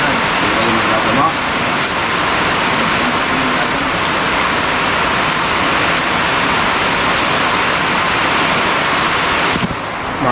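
Heavy rain pours steadily beside a river with rising water after a boat landing, a dense, loud, unbroken hiss with wind buffeting the microphone.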